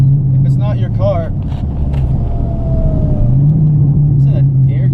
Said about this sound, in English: Let me get a downshift.